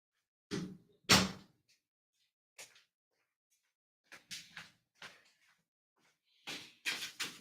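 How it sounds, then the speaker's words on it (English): An indoor door is pushed shut in a series of sharp knocks, clunks and latch clicks, several distinct bursts separated by near-silent pauses. "I need to close this button door here."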